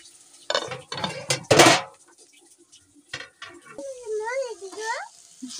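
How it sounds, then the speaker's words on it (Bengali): A metal lid clanks onto a pot of beetroot curry cooking in a Bengali home kitchen, giving a short clatter among other utensil sounds. Someone talks before and after it. "তো একটা ঢাকনা দিয়ে ঢেকে দেবো।"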